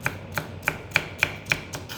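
A knife chopping fresh vegetables from a home garden on a board, six or seven crisp, evenly spaced cuts about every third of a second, close and alone.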